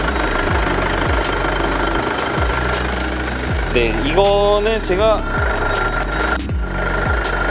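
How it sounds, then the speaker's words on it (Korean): A steady eight-year-old Mercedes-Benz diesel engine idles with a regular knocking clatter, close and even throughout, while a person talks briefly over it partway through. "이게 8년 된 디젤 차의 엔진 소리일지 정말 소리가 너무 부드럽습니다"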